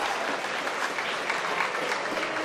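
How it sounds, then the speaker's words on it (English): A crowd at a varsity high school hockey game applauds with a steady, even wash of clapping that holds at the same level throughout. "Applause from the crowd."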